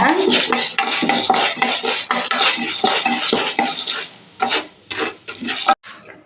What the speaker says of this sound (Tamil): உளுத்தம் பருப்பு இந்த மாதிரி சவராக வறுத்துக்கோங்க